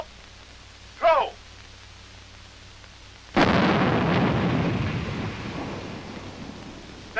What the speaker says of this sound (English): The men are throwing live grenades for the first time